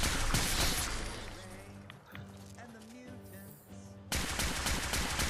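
Rapid gunfire bursts in the virtual reality game Fallout 4 VR, loud and dense at the start and again after a lull, with a voice talking in between.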